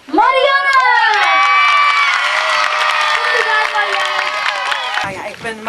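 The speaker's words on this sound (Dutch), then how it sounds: "Geef hem een groot applaus, Marianne!" Loud crowd of children cheering, shrieking and shouting with some clapping outdoors at the opening of the Beemster cow grazing season, high excited voices sustained close by before dropping off abruptly near the end.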